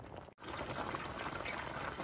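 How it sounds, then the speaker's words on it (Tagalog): Laing simmers in coconut milk at a full rolling boil, a dense continuous bubbling and hiss close up, broken only by a brief dropout near the start. "kulong-kulo na po ang ating laing"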